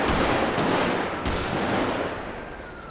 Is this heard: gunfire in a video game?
yes